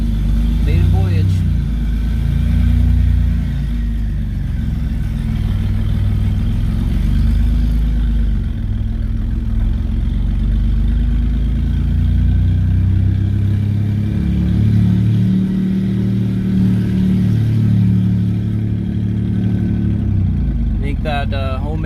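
A twin turbo V6 Mustang engine drones steadily on a test drive, a low continuous rumble heard from inside the car with a voice speaking over it.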